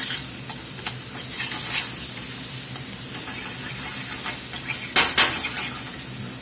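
Garlic frying with herbs in a pan while rib-eye is pan-seared, a steady close broadband sizzle and hiss throughout, with two brief sharp clinks of utensil on pan near the end.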